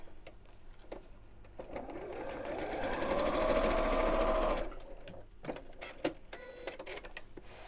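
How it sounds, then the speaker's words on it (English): A sewing machine stitches straight across the end of a simple fabric wallet in one steady, close whirring run of a couple of seconds, framed by quieter handling noises before and after. "And again sew straight across the end."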